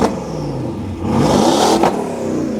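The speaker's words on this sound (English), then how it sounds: "you actually hear the turbo spooling through the exhaust" A modified 600-horsepower Porsche Cayenne Turbo S with an aftermarket exhaust revs loudly up close, the engine note rising and falling with a whooshing turbo spool audible through the exhaust.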